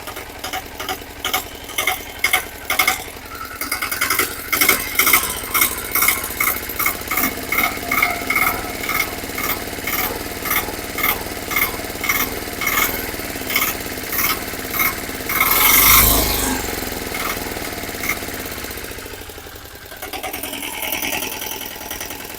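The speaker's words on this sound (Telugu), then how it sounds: "మనం బండి స్టార్ట్ చేసి ఇంజన్ బీటింగ్ ఎలా ఉందనేది విన్నాం" A ten-year-old single-hand auto rickshaw engine idles after repair, running with a fast rhythmic beating chug that rises and settles, close by, with a brief louder rumble late on.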